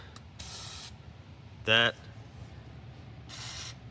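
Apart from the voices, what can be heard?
spraying PB Blaster penetrating oil on suspension bushings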